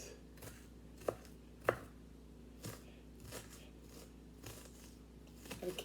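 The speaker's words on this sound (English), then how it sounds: "Do a lot of chopping up onions." A knife chops onions on a cutting board in a home kitchen, a slow irregular series of close, crisp knocks about a second apart, two sharper than the rest, with a quicker flurry at the end and no talk.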